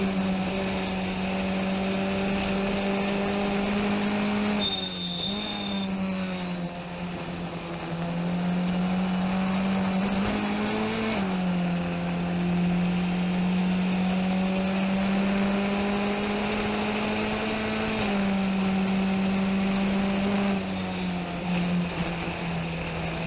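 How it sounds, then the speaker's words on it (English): A loud race car engine drones steadily throughout at low revs, its pitch dipping and rising slightly with brief gear-change-like breaks, recorded close inside the car during a race at Mid-Ohio in 2019. "the engine revs are really low"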